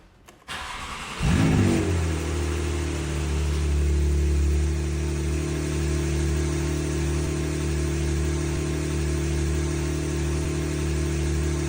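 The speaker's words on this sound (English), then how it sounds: "Fingers crossed this engine's gonna run beautifully." A Porsche 911 GTS engine cranks briefly, catches and roars to life, then settles into a steady, loud idle with a deep rumble.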